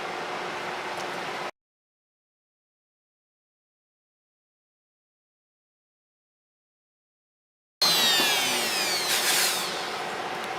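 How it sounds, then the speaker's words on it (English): A router cutting clamped acrylic for an LED sign, a close, loud whining hiss that breaks off abruptly, then returns after a long silence with a rising sweep as the bit bites in. "There we go, we got that routed out."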